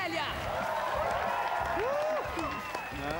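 Party crowd cheering and clapping for an older sister at a birthday celebration, a dense burst of applause and shouts with excited voices layered over it, loud and sustained throughout.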